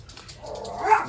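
An indoor house dog gives a single short bark rising into a whimper, fairly faint and brief, in a quiet room during a cross-stitch craft unboxing.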